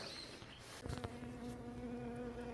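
Honey bees hum steadily inside an opened hive, a faint, close, continuous buzz with a brief knock of handling partway through.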